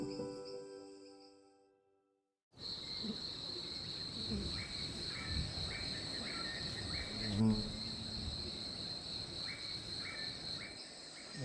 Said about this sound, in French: les sons de la jungle prennent le relais